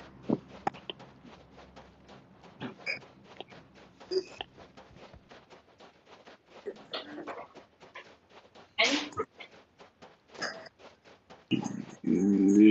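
Dog panting rapidly in short breathy puffs with occasional whimpers, fairly close, while people talk intermittently over it.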